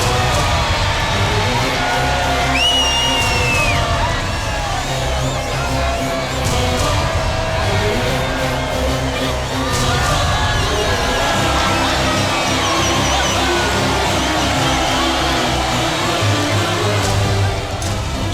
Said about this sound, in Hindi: देखो इस भीड़ को, देखो।